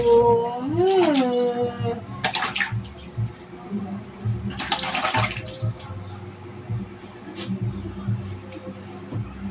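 Water splashes and pours while two pets that fear water are bathed, sloshing in bursts with a whining, rising animal cry near the start, close and fairly loud.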